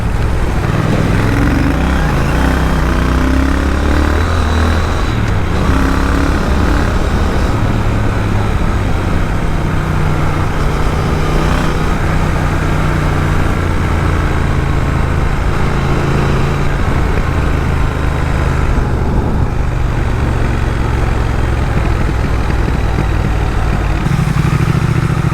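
A Triumph Speed Twin motorcycle with 112 Nm of torque and an aftermarket exhaust rumbles steadily and close by for the whole stretch, a continuous low engine drone with a slight uneven grunt.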